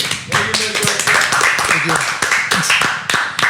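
Podcast hosts clap for a guest in a short burst of applause, with people talking over it.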